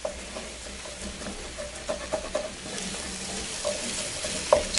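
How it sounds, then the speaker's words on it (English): Vegetables sauteing with aromatics in a pan ahead of adding vegetable stock, with a steady sizzle and repeated scraping stir strokes close by and no voices. "I'm just going to saute them in for just a second before I add my vegetable stock"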